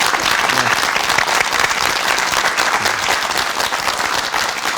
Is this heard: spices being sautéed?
no